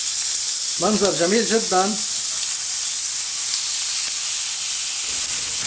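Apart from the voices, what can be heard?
chicken sizzling in a pan while being flipped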